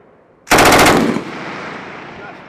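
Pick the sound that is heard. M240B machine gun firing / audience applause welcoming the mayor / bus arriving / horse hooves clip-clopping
M240B machine gun firing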